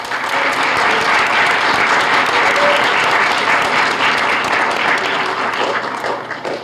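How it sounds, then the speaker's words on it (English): A crowd at a Spanish National Junior Honor Society induction at a middle school gives loud, steady applause that fills the whole stretch and eases off slightly at the end. "Let's give them a round of applause."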